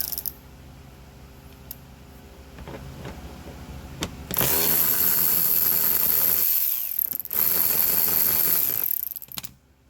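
Ratchet working loose 10 mm bumper bolts on a 2003-2007 Honda Accord: a few quiet clicks at first, then a loud sustained whirring, rattling stretch that briefly drops out and resumes before stopping.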